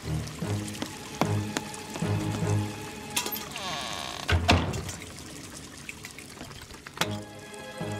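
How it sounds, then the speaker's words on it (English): Cartoon water sloshing and pouring as a bucket is used to bail out a flooding room, with splashes, clunks and gushing bursts mixed with music-like tones and effects. "I can use that bucket to bail out the water."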